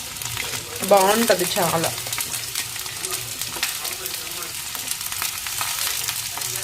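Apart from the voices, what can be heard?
capsicum and potato frying and being stirred in pan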